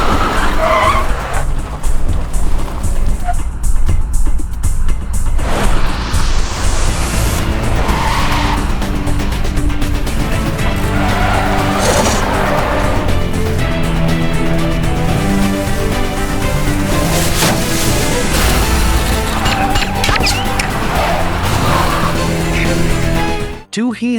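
Fierce car chase from a film with skidding, squealing tires and roaring engines, loud and continuous with dramatic score and occasional voices mixed in.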